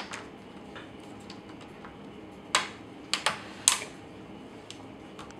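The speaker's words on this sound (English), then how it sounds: "get all of those plastic tabs to click back into place" Plastic tabs of a Samsung ATIV Book 8 laptop's bottom cover snapping into place: a few sharp close clicks, spaced apart and then coming in a quick cluster, over faint handling noise.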